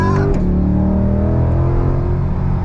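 A C8 Corvette Stingray in track mode with its 8-speed Tremec dual-clutch accelerates hard on full throttle, a loud, continuous engine roar climbing steadily in pitch close by, with no talk over it.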